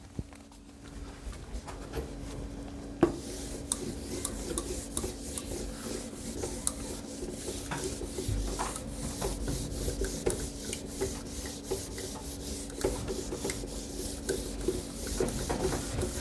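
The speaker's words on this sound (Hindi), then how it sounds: "इसको मैं रब कर देता हूं।" A classroom board being wiped clean of writing, steady soft rubbing and scraping strokes repeating close by with no talking.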